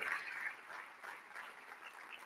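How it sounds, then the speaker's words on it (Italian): Applause for Vittorio Sgarbi at an Italian energy-themed talk event: a steady wash of clapping from an audience, fairly faint and continuous, swelling slightly at the start and holding for a couple of seconds with no voices over it. "un altro applauso a Vittorio Sgarbi"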